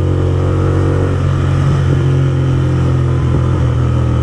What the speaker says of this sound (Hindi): और अब इसको थोड़ा भगाएंगे और इसका एग्जॉस्ट नोट सुनेंगे।